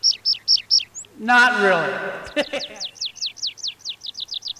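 Wild birds in rural Portugal, with short, bright repeated chirps in quick runs before and after a brief spoken remark, close and clear over a quiet countryside background.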